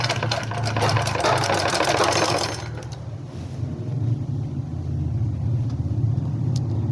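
A sewing machine runs steadily close by, stitching a women's shirt with a continuous whirring hum that eases slightly partway through and carries on to the end.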